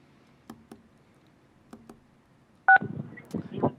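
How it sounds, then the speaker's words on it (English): A phone keypad pressed for star 6 during a redistricting commission call-in gives a single clear dual-pitched tone after a few faint clicks, followed by a muffled voice on the line. "please follow the prompts to press *6 and unmute your phone"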